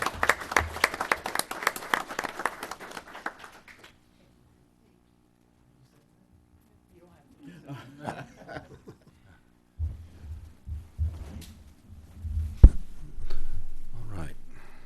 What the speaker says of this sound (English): let's give our recreation staff a great round of applause